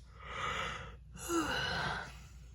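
A big human yawn, drawn out in two breathy swells with a short pause between, the second rising into a voiced, slightly tonal exhale, close and fairly quiet.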